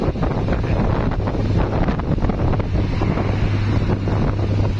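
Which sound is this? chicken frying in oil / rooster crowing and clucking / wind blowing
wind blowing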